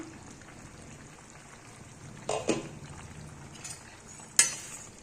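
A pot lid clanks open over cabbage rice simmering on low heat, with two sharp metallic knocks standing out over a soft, steady bubbling.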